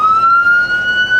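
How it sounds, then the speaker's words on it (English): Siren on a 2006 emergency vehicle winds up, a loud close tone climbing steadily in pitch over a second, with no talking. "Then the siren, powered up."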